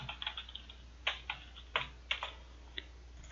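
Quick typing on a computer keyboard while a folder name is entered, with a string of light clicks in uneven bursts heard close and quiet in a still room.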